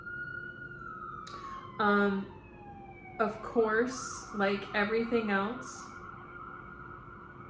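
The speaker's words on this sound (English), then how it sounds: "sorry about the sirens" A faint siren wails in the distance, holding a slowly falling tone while a person talks over it in short phrases.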